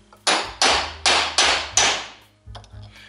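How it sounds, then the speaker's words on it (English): Five sharp metallic hammer strikes on a drift ring out at a steady pace while freeing a tapered wheel bearing on a 1965 Mustang, followed by two softer taps, close and loud with no talking. "I'm just going to tap it with a hammer and start to tap it free"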